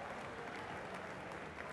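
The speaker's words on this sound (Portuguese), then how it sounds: "Recebe aqui o aplauso por parte do público de Albufeira" Applause from the crowd at a kickboxing fight in Albufeira, a steady dense wash of clapping heard at a distance and fairly faint throughout, with no clear voices standing out.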